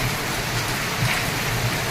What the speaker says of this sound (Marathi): स्लॅबवरचं पाणी त्या नालीतून पडतं आहे पायपामधून